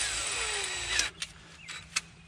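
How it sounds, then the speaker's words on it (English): A handheld power drill whines at high speed while boring a hole during a radio install on a Honda Pioneer 700 side-by-side, then winds down and stops, followed by a few sharp clicks and taps, with no talking. "drill a hole over here and check"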